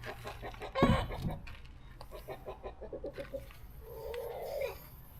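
A rooster clucks nearby in a quick series of throaty calls, with a sharper squawk early on and softer clucks after.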